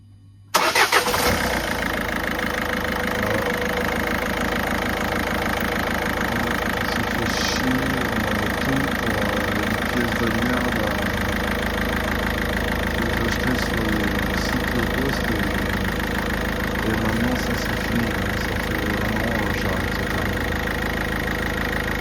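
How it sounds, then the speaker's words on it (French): A Peugeot 207 1.6 HDi diesel, just back together after a head gasket repair, cranks briefly and catches, then settles into a steady, loud clattering idle that runs unbroken for about twenty seconds. "Et puis bah là on va tester le démarrage."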